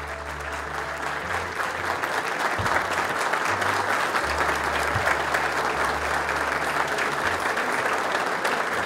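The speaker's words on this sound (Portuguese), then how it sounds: "Então, vamos dar uma salva de palmas de pés, à altura do que o Rodrigo merece, por favor" Standing audience at an event tied to a wine-production documentary gives a long, loud round of applause, a thick continuous wash of clapping that stays steady throughout, with low background hum underneath.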